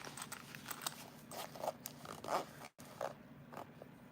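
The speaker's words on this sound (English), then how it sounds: "you do want to just go completely off the other side with the zipper pull" A zipper pull slides along the zipper of a small Araki box bag being sewn, making quiet, close, raspy scraping runs with brief clicks.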